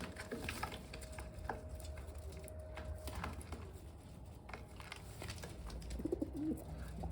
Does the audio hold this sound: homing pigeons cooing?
yes